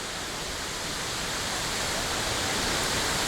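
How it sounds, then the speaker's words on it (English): A waterfall on the Bolaven Plateau in Laos pours in a dense, constant roar, close and loud, with no voices over the unbroken rush. "This is one of the prettiest waterfalls I've ever seen"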